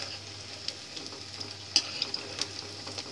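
Cauliflower pieces fry in oil for Manchurian, a quiet steady sizzle with faint ticks and light clinks of utensils against the pan, no voices.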